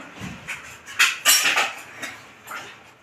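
A metal wok clanks and scrapes as it is set onto a home stove to cook pui shak with bori and brinjal, with a few sharp metallic knocks close by and no talk.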